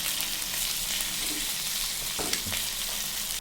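Fish frying in hot oil in a home kitchen, a steady broadband sizzle running throughout with a couple of brief clatters near the end, no voices.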